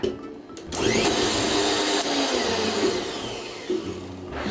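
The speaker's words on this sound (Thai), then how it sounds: "จะตีตัดอากาศความเร็วต่ำหนึ่งนาทีนะคะ ก่อนนำไปผสมค่ะ" An electric mixer beats egg whites at low speed for a Taiwanese castella sponge cake, a steady close whirring motor that runs on continuously, with no talking.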